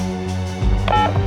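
A telephone number is punched in on a phone during a crime drama's office scene, giving a short run of clear, close keypad tones that shift midway, with no talking.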